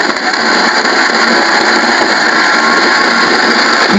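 Mixer grinder blending raw mango for a kairi panha drink, heard as a loud, steady, close motor whir with a constant grinding roar that runs unbroken throughout.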